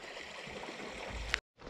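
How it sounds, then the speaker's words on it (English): Steady rushing and gurgling of creek water flowing over small rocky rapids, close by, cutting out abruptly near the end before resuming briefly. "It's like mini rapids."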